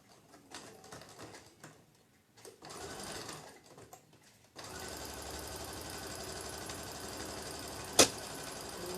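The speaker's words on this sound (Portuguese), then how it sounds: "Alinha aqui o pezinho e vamos costurar." A sewing machine stitches patchwork, starting with a few quiet handling sounds and then running in a steady, rapid mechanical chatter up close, with a sharp click near the end.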